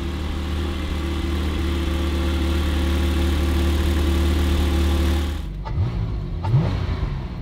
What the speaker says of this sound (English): Couple small revs, it sounds really healthy